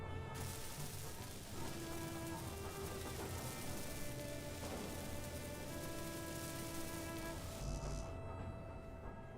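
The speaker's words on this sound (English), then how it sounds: "I hear nothing but the rain." Rain pours steadily in the Space Engineers game, a dense unbroken hiss with sustained tonal hums and notes layered over it until it thins near the end.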